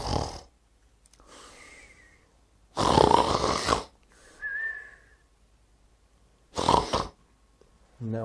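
Loud, close snoring by a woman asleep in bed, heard alone as three long rasping inhalations with whistling, breathy exhales between them.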